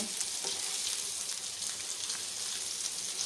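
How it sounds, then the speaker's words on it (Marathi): Surmai kingfish frying in hot oil, a dense continuous crackling sizzle like steady rain, unbroken throughout with no voices. "नंतर तेल टाकून आपल्याला ते पलटवायचे मस्त अशी सुरमई फ्राय झालेली आहे"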